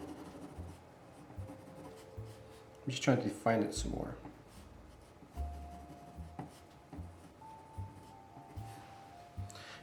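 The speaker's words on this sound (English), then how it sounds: "this is just a lot of cross hatching, which I like to do" Pencil cross-hatching on paper while drawing an ogre face: a steady, soft scratching and rubbing of graphite strokes. It runs under near, continuous talk, with a few firmer, louder strokes in the middle.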